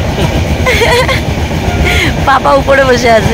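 A passenger train running through fog near Cooch Behar, a steady rumbling clatter under close, loud talk from people on board.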